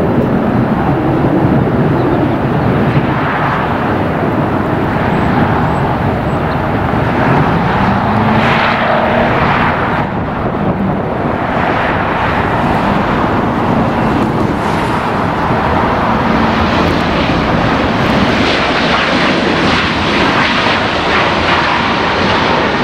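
A fixed-wing airplane flying near Los Angeles International Airport, its engine roar loud and steady for over twenty seconds, with a broad rushing drone and traffic-like rumble and no speech.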